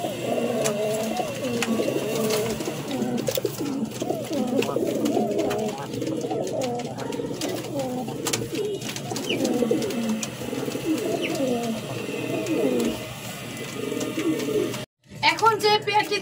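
Several Lakha pigeons coo continuously up close in overlapping, throaty rolling calls, cut by a brief gap near the end.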